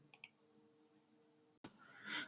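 Two quick, faint mouse clicks land on a login button on the PFMS web portal, followed by a low hum, a brief dropout and a rise in hissy background noise.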